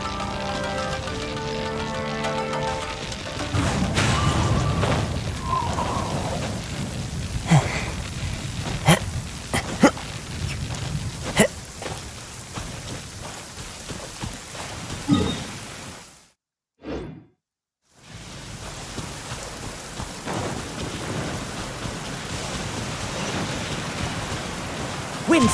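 Steady heavy rain pours through a stormy scene in the video game Genshin Impact, with occasional thunder rumbles and sharp impacts. Game sounds and voices come and go, and there is a brief silent gap partway through.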